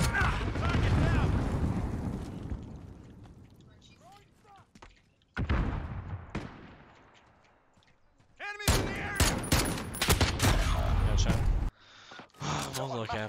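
Call of Duty Modern Warfare 2v2 Gunfight match: a grenade explosion followed by bursts of rapid gunfire, loud and close, with quieter gaps between volleys and players talking over the action.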